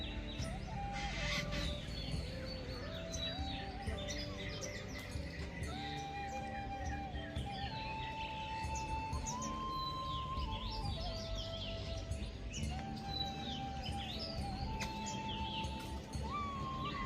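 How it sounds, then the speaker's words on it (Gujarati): Several birds chirp and sing in the early morning in a village, with repeated whistled calls and chatter over a steady low background hum, while fowl-like clucks occasionally mix in at a moderate distance. "અત્યારે મોર્નિંગમાં ખરેખર એટલા મસ્ત પક્ષી બોલે છે"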